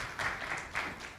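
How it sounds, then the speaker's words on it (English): A short burst of audience clapping at a Dubai conference for speaker Abhishek Jha, uneven and fairly faint, rising in a few brief swells over about a second. "A big round of applause for Abhishek Jha."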